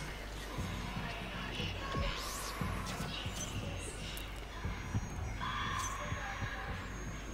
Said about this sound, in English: Oh, I can hear the heartbeats.